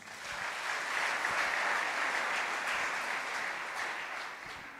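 Church congregation applauding and cheering together, a steady broad wash of clapping that swells and holds for several seconds, close and fairly loud, with no talking over it.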